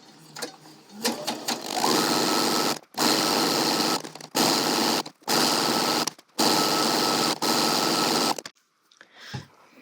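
Sewing machine stitching a folded hem about a quarter inch from the edge, running in five or six loud bursts of rapid whirring separated by short pauses, with faint handling noises before and after.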